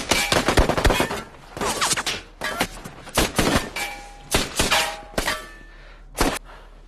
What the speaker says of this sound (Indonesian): Alhasil baku tembak pun terjadi di antara mereka berdua.